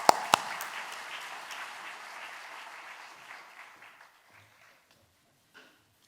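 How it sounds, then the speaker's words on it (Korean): Church congregation applauding at a Korean men's fellowship dedication service, a couple of sharp claps up front giving way to a steady wash of clapping that thins and fades out over about four seconds, then near silence. "하나님께 영광과 박수를 드리겠습니다"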